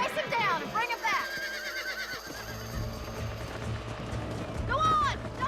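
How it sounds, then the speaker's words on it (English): A stallion in the video game Red Dead Redemption gives several loud whinnying neighs over hoofbeats and game sounds, with a voice speaking between the calls. "Hey, the stallion's getting away. Chase him down and bring him back."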